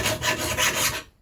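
A hand file rasps across a lawn mower blade in two quick back-and-forth strokes, a close, bright scraping rasp that cuts off into silence.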